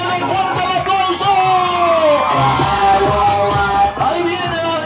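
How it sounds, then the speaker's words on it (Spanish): A crowd cheers, whoops and shouts at a street political rally for a provincial deputy candidate in Mao, Valverde. The noise stays loud and continuous throughout, with overlapping voices and cries. "¡Fuerte el aplauso!"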